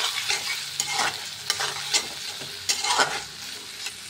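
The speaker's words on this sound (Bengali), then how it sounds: "এখন একটু নাড়াচাড়া করবো।" Spicy dried Bombay duck (lotia shutki), seasoned with soy sauce, fried Indo-Chinese style in a pan while a utensil stirs it, giving a steady sizzle broken by sharp scraping strokes, close and without talk.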